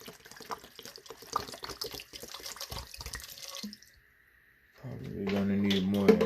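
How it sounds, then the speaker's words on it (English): Bottled water is poured into a container while preparing Jamaican purple sea moss gel, heard first as uneven splashing and trickling and then, after a short pause, as a steady, louder gurgling stream, with a voice talking alongside. "I'm going to put the 2 bottles of water in here"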